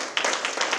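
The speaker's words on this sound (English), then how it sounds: "Please give him another round of applause." An audience claps in a short burst of several quick, dense hand claps at a moderate distance, with no voices.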